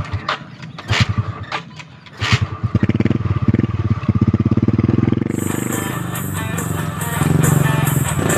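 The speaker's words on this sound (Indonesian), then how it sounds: "Aduh, motor nggak nyala lagi." A motorcycle engine cranks and sputters in short bursts, then catches into a loud rapid rattling run that keeps going, with a higher whine joining later, close by.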